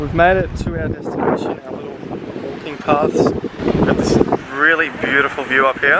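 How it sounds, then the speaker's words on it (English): Wind blowing across a hilltop above a beach, a rough low rumble buffeting the microphone throughout, under continuous close talking. "Sorry about the wind as well."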